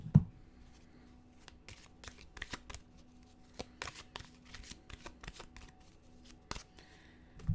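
Rapid papery riffling of a deck of cards being shuffled, short bursts with brief pauses and soft taps, fairly close and quiet.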